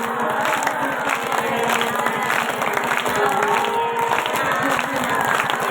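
Devotees clap hands together in a dense, continuous crowd applause at a devotional gathering for Baba Ramsa Pir, steady and close, with voices blending in underneath.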